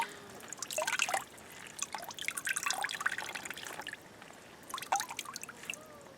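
Water drips and trickles from a squeezed compost extract bag in a container, with soft patters and dribbles coming in several clusters at moderate, close level.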